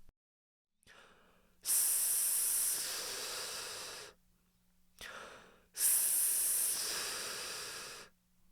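Two long, loud hisses of air forced through the gap between tongue and teeth, a screaming vocal technique, each starting softly then swelling, separated by a brief pause and breath.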